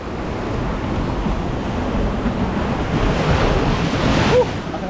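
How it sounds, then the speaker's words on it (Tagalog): Strong sea waves churn and crash along a rocky shore during a typhoon, a continuous loud surging roar mixed with heavy wind buffeting the microphone, and no voices are heard. "lakas yung alon."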